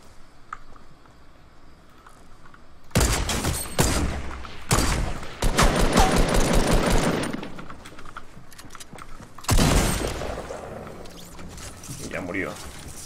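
Two bursts of rapid gunfire in Fortnite Battle Royale, one lasting a few seconds and a shorter one later, loud and close, with quieter ambient game sounds between.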